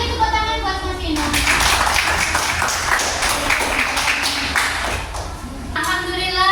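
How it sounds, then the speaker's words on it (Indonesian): Children in a classroom clap for a classmate who has just presented group work, a brisk burst of scattered applause lasting several seconds, with a voice speaking just before and after. "beri tepuk tangan buat Mas Ino"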